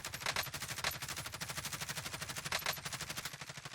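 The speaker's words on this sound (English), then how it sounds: "Taking fire over here." Rapid automatic gunfire in Call of Duty: Modern Warfare, a steady fast string of sharp shots running nonstop, loud and close, with a couple of brighter bursts standing out.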